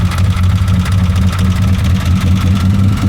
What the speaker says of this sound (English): I hear a tapping going on in here.